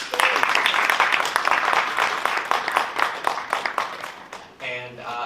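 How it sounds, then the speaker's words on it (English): Audience at a research panel on trans media histories giving a round of applause, a dense burst of clapping that gradually thins and fades, followed by a voice speaking briefly at the end. "Round of applause for the panel."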